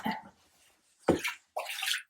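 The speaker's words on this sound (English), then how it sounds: "The only thing we can be sure of is that there's water right here." Water splashing and pouring at an old well or fountain set in ancient city walls in Perugia, heard as two short close bursts separated by a quiet gap, with no talking.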